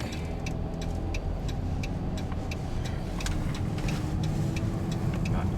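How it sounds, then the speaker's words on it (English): Downtown street traffic on 20th Street East in Saskatoon on a Saturday afternoon, a steady close wash of car engines and tyre rumble with passing vehicles, no voices. "Much traffic downtown."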